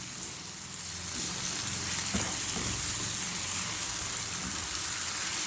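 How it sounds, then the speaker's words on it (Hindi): Finely chopped potatoes are mixed into ginger and garlic frying in a pan, giving a steady, dense sizzle with soft stirring under it and no voices. "आलू को इसमें मिक्स करते हैं।"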